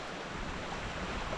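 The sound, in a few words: creek flowing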